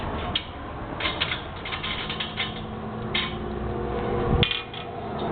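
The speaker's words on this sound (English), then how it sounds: "if you reach underneath here, this will actually loosen the wing nut" Wing nuts are loosened on carriage bolts under the tank of an Iron Pony, producing a steady close grinding, ratcheting scrape with brief creaks and clicks and a louder rasp near the end, with no voices.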